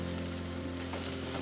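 Spices tipped into a pan of cooking food fry with a steady, close sizzle and crackle that runs unbroken and fairly loud throughout, with no talking.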